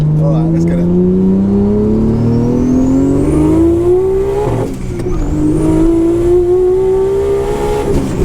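A Nissan R34 GT-R engine revs up through the range in a loud, rising whine that drops at a gear change and climbs again, close inside the car with voices talking over it.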